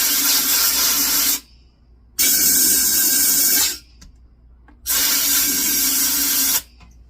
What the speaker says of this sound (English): Be sure and blow all that old stuff out of your tank once you drill a hole in it.